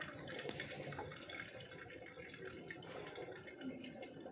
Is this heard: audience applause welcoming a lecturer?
no